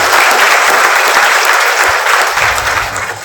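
A crowd gives loud, sustained applause for all the students at a gurukul anniversary event, dense clapping that fills the room and then tapers slightly toward the end.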